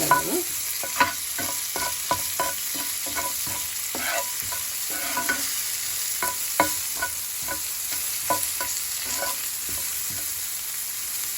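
Steady sizzling of onions frying in a pan, with frequent crackles and pops and occasional stirring scrapes, close and continuous.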